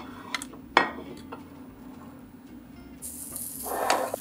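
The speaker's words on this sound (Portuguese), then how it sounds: "Vou fazer aqui a outra selada." Beef steak sears in a hot pan on a kitchen stove, giving a steady close sizzle with a few sharp clinks of pan and utensil and a louder hiss swelling near the end.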